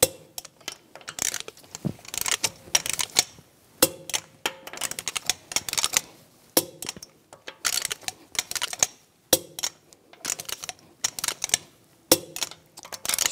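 A torque wrench tightens the lug bolts on a 2010-2014 Volkswagen GTI front wheel, rapid ratcheting clicks in repeated bursts separated by short pauses, close and crisp with no talking.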